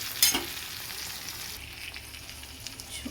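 Turmeric stirred into a small curry of tangra fish frying in a pan, with a steady close sizzle and soft scraping as the mixture is moved around.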